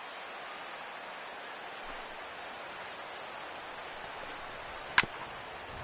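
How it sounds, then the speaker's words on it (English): Rain falls steadily in the baseball video game MLB The Show 16 as a soft, constant hiss with one brief sharp tick near the end, and no one talks. "EK, how'd you like playing in the rain?"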